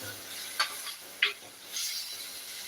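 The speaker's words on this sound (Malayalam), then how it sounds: "നന്നായിട്ട് നമുക്ക് അതൊന്ന് ഇളക്കാം" Salted food is stirred in a pan, giving a few brief scrapes and soft sizzling bursts over a faint steady hiss.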